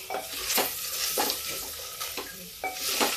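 Aloo gobhi with tomatoes sizzling in a pan while being stirred, with steady frying hiss and repeated scraping strokes of a utensil against the pan at a close, moderately loud level.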